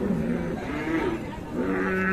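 A dairy cow at a busy rural cattle market in Dinajpur gives a long, low moo that rises and falls over a constant crowd murmur.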